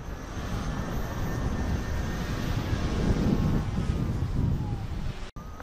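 Strong headwind roars across the microphone while riding a KingSong 18XL electric unicycle, a steady, loud broadband rush that swells slightly midway and cuts out briefly near the end.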